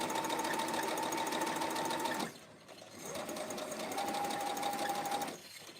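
Sewing machine stitching a quilt, a steady rapid mechanical whir that stops briefly, then restarts and runs on, loud and close with no talking.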